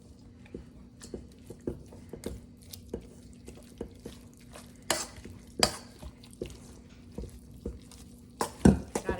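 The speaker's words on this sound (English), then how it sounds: "Then all I have to do is grab a spoon. We're gonna stir this together." A spoon stirs a chicken and cream cheese mixture for stuffed peppers, making soft wet squelches and light scraping taps against the bowl, quiet and close.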